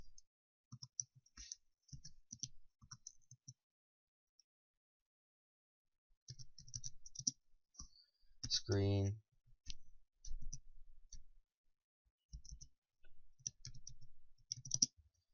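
Keys tapped on a computer keyboard while typing a Google search, with sparse clicks at first, then a denser run of keystrokes and a louder mechanical burst midway, all close and fairly quiet.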